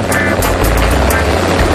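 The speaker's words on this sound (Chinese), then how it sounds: "我屋企人咧开部直升机送我嚟嘅" A helicopter arriving as a sound effect in a Cantonese comedy sketch, a loud, steady rotor rumble that fills the brief moment without speech.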